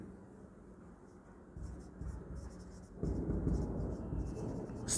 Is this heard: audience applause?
no